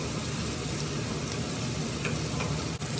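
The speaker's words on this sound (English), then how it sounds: "Make sure to scorch and sear both sides of the potatoes. And stir constantly." Potatoes sear in a hot pan with a continuous close sizzle while they are stirred. The frying noise stays even, and a brief dip comes near the end.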